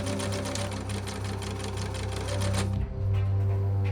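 A sewing machine stitches the end of a fabric strap shut with a fast, steady mechanical whir and rhythmic needle clatter, close by, pausing briefly before running on.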